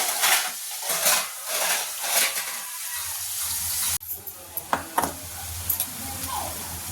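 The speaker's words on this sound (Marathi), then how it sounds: "आणि आता कांदा चांगला भाजून घ्यायचा." Onion fries in two spoons of oil in a pan, with loud close sizzling and crackling under steady stirring, followed by a sharper hiss and several scraping clicks from the spoon.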